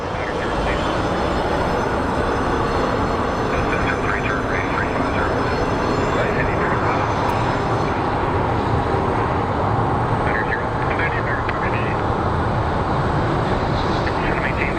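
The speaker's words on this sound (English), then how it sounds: "we have the Trans World Airlines livery, TWA livery coming through" An aircraft in Trans World Airlines (TWA) livery arriving at Sky Harbor, a continuous broad engine rumble holding steady throughout, with occasional talking layered over the noise.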